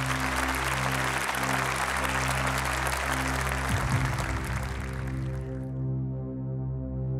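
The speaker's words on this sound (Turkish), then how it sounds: "alkışlarınızla İslam Aydın." A studio audience at a Quran recitation competition claps for a contestant. The applause is loud, dense and continuous for about five seconds, then stops abruptly, leaving only a low electrical hum.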